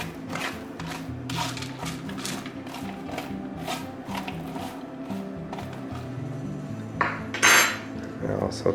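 Pieces of wild chaga mushroom are stirred around in a pot, giving quiet clattering and scraping of a utensil against the metal, with a sharper rattling burst near the end and no talking.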